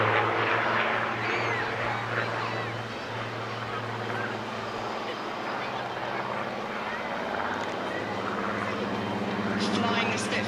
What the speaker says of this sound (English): as the aircraft fly past us on the seafront there